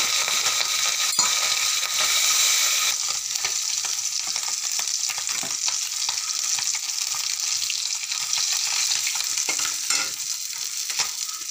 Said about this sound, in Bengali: লোকাল পাবদা মাছ এনেছি, পাবদা মাছ এখন ফ্রাই কর।